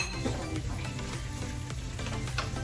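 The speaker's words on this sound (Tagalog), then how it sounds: "isasama na natin yung ating bagoong na hinugasan ko. Para maluto siya." Washed shrimp paste (bagoong) frying in a pan, a steady dense sizzle that runs without a break and without speech, with a few faint stirring scrapes.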